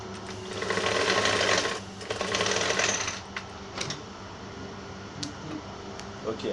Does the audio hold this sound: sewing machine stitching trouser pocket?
yes